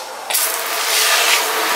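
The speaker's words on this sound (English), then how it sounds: "I'm gonna go on and fire up the pump, and then I'm gonna go on and depress this hand wand" A pump sprayer pushes citric acid solution through a hand wand nozzle, a sudden loud hiss of spray that starts abruptly and holds steady and close.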